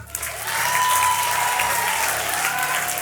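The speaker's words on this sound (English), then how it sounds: "Yes, round of applause." A live studio audience at the season finale of an insurance apprentice show breaks into applause, a full, sustained wash of clapping that stays loud and even throughout.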